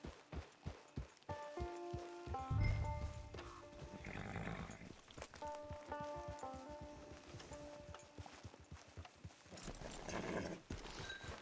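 Horse hooves clip-clop in Red Dead Redemption 2, rhythmic close hoofbeats under a gentle melodic game music bed, with a short whinny-like burst early on.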